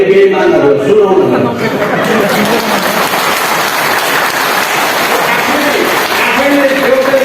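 Crowd applause at a political rally in Nepal, a dense, steady wash of clapping held close and loud from start to finish, with chatter and a raised voice running underneath.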